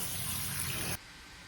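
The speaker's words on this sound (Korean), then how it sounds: "어느 정도 끓으면 채반에 받쳐서 물을 빼고 찬물 샤워를 시켜주세요." Boiled walnuts rinsed in a colander under cold running tap water: a loud, close, steady rush that cuts off abruptly partway through.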